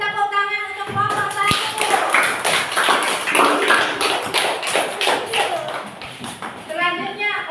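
Classroom applause for group 1, with dense rapid clapping from many hands lasting several seconds between stretches of a voice talking before and after.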